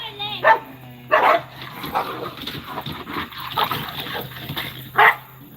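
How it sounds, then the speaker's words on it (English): Several big dogs bark in a garden, sharp close barks at intervals mixed with whimpers and yips, while a person talks over them. "See the puppies real quick? They're big dogs now."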